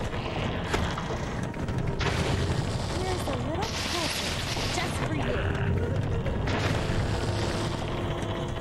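A marble shooter in the Monster House video game fires repeatedly at a possessed TV, heard as thumps and crashes amid busy game sound and someone talking.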